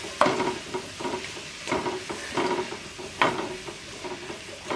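Onions fry in a pan with ginger garlic paste and chilli, sizzling steadily as a spoon stirs through them in repeated scraping strokes, close by with no voices.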